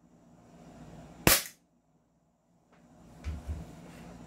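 An Umarex Glock 17 replica pistol fires a single sharp, loud shot that cuts off quickly, followed by silence and then some handling noise.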